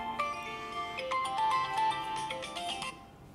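A mobile phone rings with a melodic ringtone, a loud, steady stream of musical notes that plays for about three seconds before cutting off, with faint room noise beneath.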